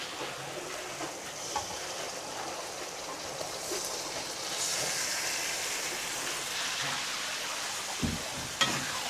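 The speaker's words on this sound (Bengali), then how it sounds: "এখন মাংসটা আমি কিছুক্ষণ ভাজে নেব" Goat meat sizzles and crackles in a hot pan with fried spices, a steady frying hiss with occasional scraping and a couple of sharp clinks near the end.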